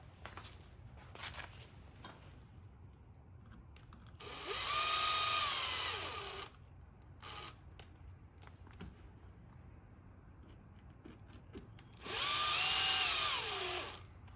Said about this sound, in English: So we're going to get our screws that secure the pins in place. And we're going to tighten those down.